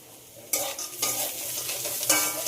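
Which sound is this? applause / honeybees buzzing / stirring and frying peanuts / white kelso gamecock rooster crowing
stirring and frying peanuts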